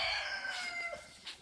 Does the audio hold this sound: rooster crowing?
yes